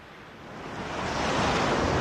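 Stormy sea surf swells and crashes, a broad roaring wash of waves building louder over two seconds with no voices.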